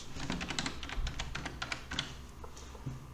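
Quick, irregular clatter of computer keyboard keys being typed on at close range, with no talking over it.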